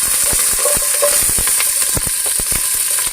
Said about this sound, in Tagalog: So una, maglagay muna tayo dyan ng sibuyas.